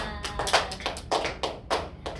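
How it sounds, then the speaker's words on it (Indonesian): A group claps hands in a steady, fairly regular rhythm, about eight sharp claps in two seconds, close and clear in an Indonesian classroom or gathering. "tepuk tangan untuk kita semua"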